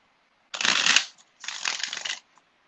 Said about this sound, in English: let me just shuffle my cards.